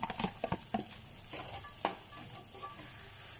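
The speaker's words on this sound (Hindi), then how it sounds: "अब हम इसमें जो फ्राई की हुई भिंडियाँ थी ना वो शामिल कर देंगे" Fried okra stirred into a pan of fried salt and chili, a busy sizzle with several quick scraping and clattering stirs near the start, then a steadier low frying hiss.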